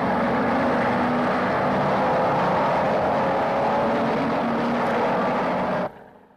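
Lotus 30 racing cars roar loudly and steadily through Copse corner on a racing circuit, a continuous dense engine rumble that cuts off abruptly near the end.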